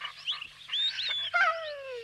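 A dog gives a short run of yelping, whining vocalizations, high-pitched and close, lasting about two seconds with no talking over it.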